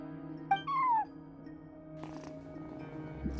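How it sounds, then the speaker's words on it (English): A cat in the video game Genshin Impact gives one short rising-then-falling meow, fairly close and clear, over a steady low ambient hum, followed by quieter soft game sounds. "No one except for a cat watching over the front desk."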